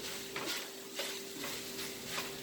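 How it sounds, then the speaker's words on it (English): Onions for chicken fried rice hiss and sizzle in a hot pan, a steady close frying sound with periodic scraping strokes as they are stirred. "So while that is cooking, we are going to put the onions in here."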